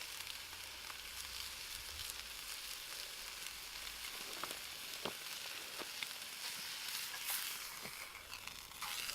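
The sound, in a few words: meat sizzling as it fries in its own fat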